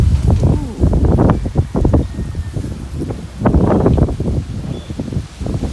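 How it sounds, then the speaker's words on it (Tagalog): Strong gusts of Typhoon Ulysses (Vamco) wind rush through leaves, including a moringa tree, in the Philippines in repeated surging waves, loud and close, with the foliage rustling and thrashing throughout. "Ay, lakas pa rin ang hangin."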